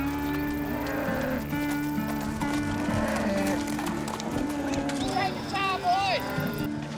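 Cattle bogged in a muddy spring low several times on a ranch in Alabama, fairly close, over steady background noise with people talking nearby.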